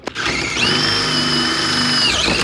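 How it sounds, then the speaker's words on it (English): A power drill bores out factory rivets, spinning up with a whining whirr that holds steady for about a second and a half before winding down, close and loud, no talking. "so these things are usually riveted from the factory, so we'll have to drill out"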